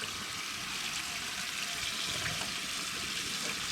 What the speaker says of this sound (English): Get that one all rinsed off.